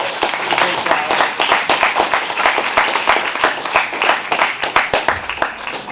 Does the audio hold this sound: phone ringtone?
no